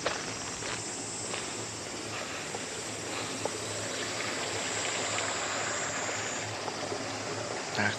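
Clear water runs steadily along a small canal in Shirakawa-go, Japan, in summer, a continuous even rush of flow with no voices over it.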